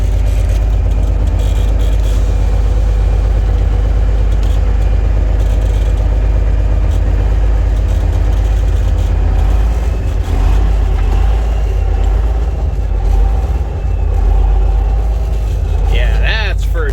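A 1987 Freightliner FL86 truck with a Cummins Big Cam diesel engine pulls away in first gear, its deep engine roar loud and steady with a whining drivetrain, and voices talking under it.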